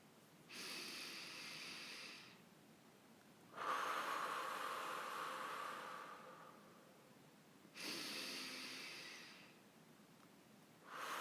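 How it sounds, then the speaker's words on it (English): Three deep breaths taken one after another during a warm-up for a seaside singing group, each a long, airy inhale-and-exhale lasting around three seconds, close and clear with quiet pauses between. "We'll do 3 breaths, one after the other."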